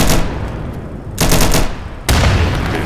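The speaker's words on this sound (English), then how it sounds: "I don't know if that was either our gunshots or..." Automatic gunfire in the video game Insurgency, loud bursts that drop out briefly and then return at full strength in dense rattling volleys, with no talk.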